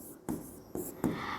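Marker or chalk strokes on a classroom board while an example is written, three distinct scratchy bursts separated by short pauses, close and moderately loud, with no talking.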